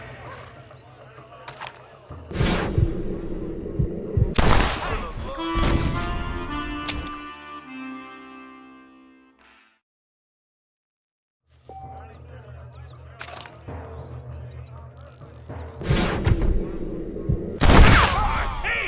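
Gunshots in the Red Dead Redemption video game ring out as several sharp, loud cracks amid game music and dialogue, followed by a quiet gap and two more blasts.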